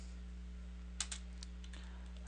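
A short burst of several crisp key presses on a computer keyboard, close and quiet over a steady electrical hum, with no talk.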